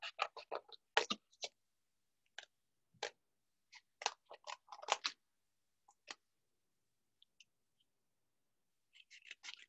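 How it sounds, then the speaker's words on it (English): Scissors cutting a bee shape for a modern mosaic painting craft, heard as a series of short, crisp, close snips in irregular bursts with quiet gaps between. "And I'm just gonna cut the shape."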